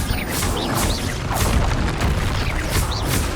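A Bombarda blast spell explodes in the game Hogwarts Legacy as part of dense combat, with a continuous heavy booming roar and crashing impacts layered throughout.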